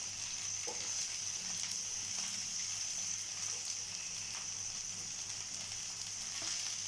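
Ground coriander, chili powder and fresh coriander leaves sizzling in a pan for sambar, a steady bright hiss of frying with faint stirring scrapes underneath, continuous and fairly quiet.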